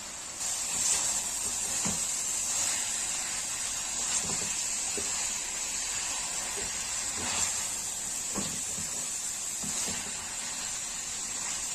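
Tomatoes sautéing with tomato paste in a pan, a steady close hiss with a faint higher whine and occasional soft stirring scrapes throughout.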